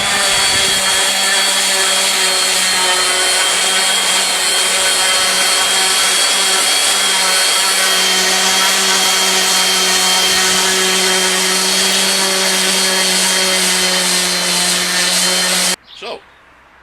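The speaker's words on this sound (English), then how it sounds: "So, sanding is completed." A power sander whirs steadily and loudly against a wooden cutting board for a long stretch with a constant droning pitch, then switches off near the end.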